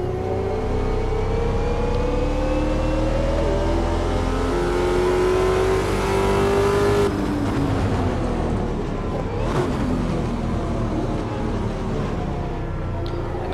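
Car engine at a track day, loud and close, revving steadily with rising pitch for about seven seconds, then dropping off as the car passes and recedes, with continuous broadband roar and no talk.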